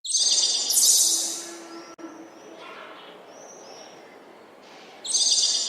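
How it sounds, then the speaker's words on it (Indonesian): A dramatized flock of birds in the sky, a sound effect in a staged play: loud bursts of chirping calls at the start and end, with softer cooing and calling in between. "Tunggu, itu apa di langit? Burung. Banyak sekali."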